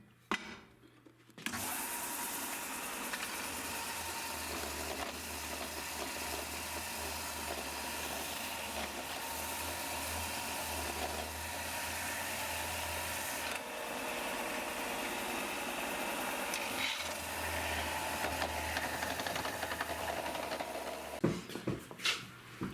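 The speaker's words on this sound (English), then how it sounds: "we're going to use the belt sander and sand it out, and we'll be ready to go." A belt sander works a wooden log in a steady, loud, continuous whir and hiss that runs nearly twenty seconds, starting after a brief pause and ending abruptly with a few bumps.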